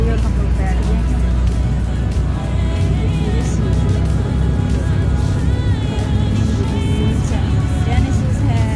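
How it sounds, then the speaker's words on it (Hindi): Passengers ride inside a moving car, the engine and road noise forming a steady loud rumble beneath continuous conversation. "ये गाड़ी चल रही है और हम लोग बैठ गए हैं।"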